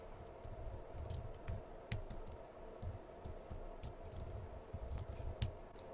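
Fairly faint, steady clatter of keys as someone types on a computer keyboard, with irregular clicks and no talking.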